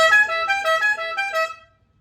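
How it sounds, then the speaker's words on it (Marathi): A freshly repaired vehicle horn sounds loud and close in a quick series of about five honks, then cuts off into silence. "हा हॉर्नचं आपण थोडंसं काम करून दिलं नाही."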